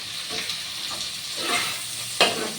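Tomato and onion get stirred and mashed in a sizzling pan, soft scraping strokes over a steady fry hiss, ending in a sharper clack near the end.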